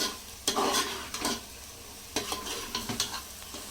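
Food is sautéed in a pan: a few sharp bursts of stirring and scraping over a low sizzle, close up, with no talk.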